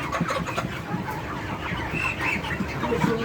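Broiler hens of the Ross breed clucking and murmuring continuously in a coop, a steady chorus of soft, overlapping clucks at moderate distance with no talking.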